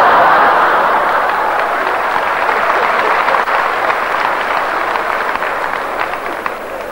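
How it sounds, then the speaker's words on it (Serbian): A theatre audience applauds a stage comedy with loud, dense, continuous clapping that holds steady and then slowly fades toward the end. "Ne šumi more, nego aplauz se čuje."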